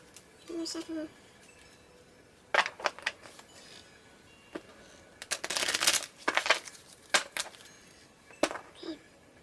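Tarot cards are shuffled by hand in irregular bursts of crisp riffling and slapping, close and fairly quiet, with one longer flurry in the middle and brief pauses between.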